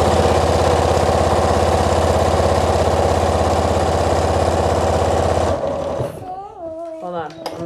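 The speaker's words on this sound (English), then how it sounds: "So I'm sewing it shut" A sewing machine stitches fabric shut in a fast, steady buzzing run for several seconds, then stops abruptly, leaving a voice talking close by.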